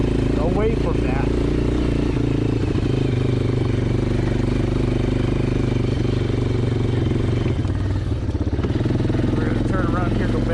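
A 1996 Yamaha Kodiak 400 4x4 ATV engine runs continuously while riding off-road, a steady mid-pitched drone with slight rises and a brief dip, close and loud throughout, with speech-like sounds mixed in.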